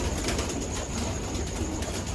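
Pigeons of old Indian breeds cooing together in a large loft, a steady layered murmur of low coos filling the space with no voices over it.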